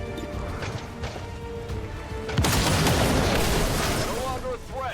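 A weapon shot fired at an Andromedon in the strategy game XCOM 2: War of the Chosen lands as a sudden loud blast partway through, followed by a sustained crackling roar over a busy game soundscape.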